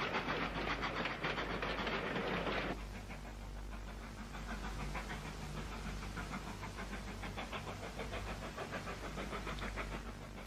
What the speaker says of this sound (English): Wisps of steam in the distance and the sound of an engine working hard and gradually getting closer signal the next train tackling the climb